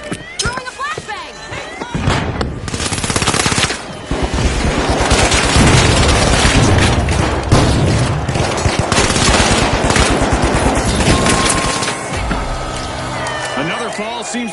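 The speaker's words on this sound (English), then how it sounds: "Throwing a flashbang." Flashbang grenade thrown during a match of The Finals, heard amid loud, continuous gunfire bursts and booms that fill most of the stretch, with an announcer's voice talking over the chaos.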